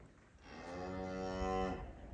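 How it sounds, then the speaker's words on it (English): A cow on a remote off-grid homestead in the woods gives one long, clear moo, close by and alone, rising and holding for about a second before trailing off. "What are you mooing about?"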